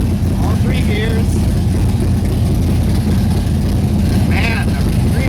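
A 1971 Corvette with an LS6 engine, driven in cold winter weather, roars loudly and steadily at close range, its deep engine rumble sustained throughout with a brief whine rising over it near the end.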